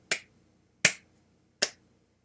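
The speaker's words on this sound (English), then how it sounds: "Then clap your hands 3 times." Three sharp, close hand claps ring out alone, evenly spaced less than a second apart, each a crisp single snap fading quickly into silence.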